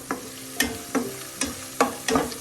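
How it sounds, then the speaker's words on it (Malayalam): Turmeric powder fries in a pan for a fish curry, heard as a soft sizzle under a series of sharp, regular scraping and clacking stirring strokes, about five in a couple of seconds. "മഞ്ഞൾപ്പൊടി ഇതിൽ കിടന്നൊന്ന് മൂക്കട്ടെ."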